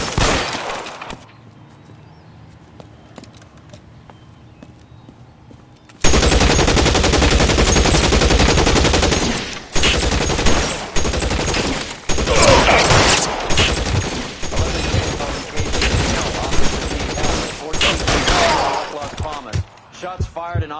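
Heavy gunfire erupts in an L.A. Noire police shootout, loud bursts of automatic fire and single shots crackling continuously after a quiet stretch with faint talk, the barrage running on for over a dozen seconds.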